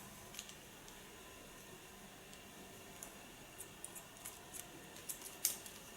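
Scissors snip hair during an ultra-short pixie haircut, a sparse run of faint, crisp clicks that cluster more densely toward the end, over a soft steady hiss with no talking.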